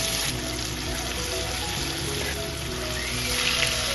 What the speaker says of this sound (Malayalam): നമ്മുടെ ചിക്കനും വറുത്തെടുക്കാം